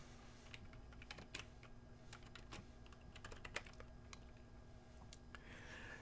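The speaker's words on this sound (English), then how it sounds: "I'm going to type in SE101." Quiet computer keyboard typing, a run of light irregular key clicks close by, with a brief pause partway through and no talk.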